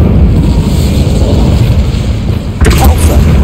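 A fiery Incendio spell blast from Hogwarts Legacy bursts out suddenly over a low rumbling battle bed, one sharp crackling flare near the end, while a voice shouts.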